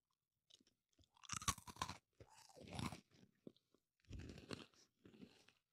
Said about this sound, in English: let me get a little ASMR crunch in this mic right now